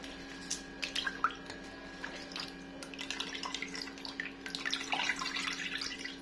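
Water being poured off homemade butter, a light trickling and splashing that builds toward a fuller, steadier pour near the end, close and fairly quiet over a faint steady hum.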